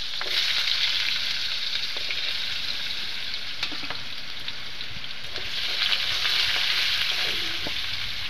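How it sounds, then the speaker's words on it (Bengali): Potatoes fry in oil in a kadai, producing a continuous close sizzle with a few clinks and stirring scrapes, steady throughout with no talking. "এবার দিয়ে দিলাম আমি তেল কড়াতে। আলুটা ভেজে নেবো।"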